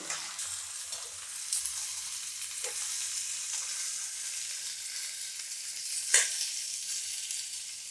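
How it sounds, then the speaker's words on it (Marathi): Steady sizzling of okra frying in hot oil in a kadhai, with a couple of sharp scraping clinks from stirring. "ही भेंडी आता मी कढईमध्ये टाकून घेते त्याला आपण दोन मिनटं असं परतून घेऊ तेलामध्ये"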